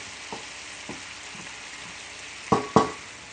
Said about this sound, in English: that's just going to cook until it's reduced, until it thickens up a little bit.